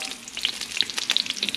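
Bacon frying in a pan, rendering down with a bright crackling sizzle and sharp spitting pops throughout, close and lively with no talking.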